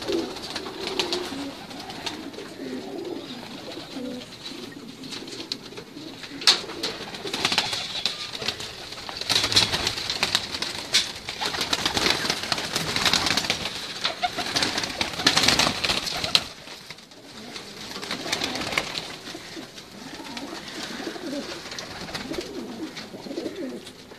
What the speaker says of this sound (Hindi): मैं अब आपको इनके कबूतर दिखाता हूँ।